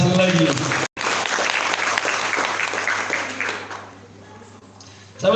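A church congregation claps and applauds steadily for several seconds during a Sunday service, then the clapping fades out, with a brief pause early on and a louder burst at the end.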